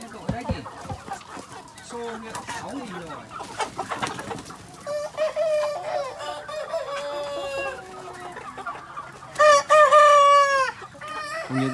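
Crossbred meat chickens on a Vietnamese poultry farm cluck and crow in a busy, overlapping chorus, with a loud rooster crow near the end and people talking faintly among them.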